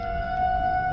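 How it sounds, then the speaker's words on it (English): Tornado sirens wail as a steady, loud tone held through the whole second at an RV park as a storm approaches, with no voices over it. "you guys can hear the tornado sirens."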